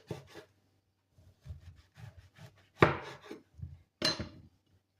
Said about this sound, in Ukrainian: баклажанчики я вже всі е, почистила і от буду їх нарізати